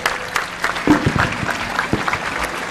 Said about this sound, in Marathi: त्यांच्यासाठी आपण टाळ्या देऊया जोरदार.